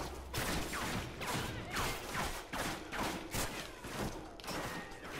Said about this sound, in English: Right, we're being shot from there.